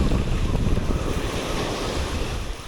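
Ocean waves rush and wash continuously, loud and close, mixed with buffeting wind noise on the microphone, with no voices.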